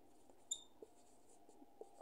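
Pen writing on paper during a math lesson, soft scratchy strokes and light taps in an irregular rhythm, quiet and close, with no talking.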